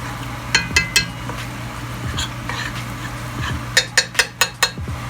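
Spoon clinking and scraping against a pot while a blonde roux of flour, oil and butter is stirred together with vegetables for seafood chowder, sharp metallic taps in two quick bursts of rhythmic strikes, close and clear.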